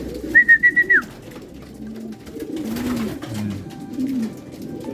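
A hen pigeon coos close by, a short series of soft rhythmic notes, with people talking quietly around it.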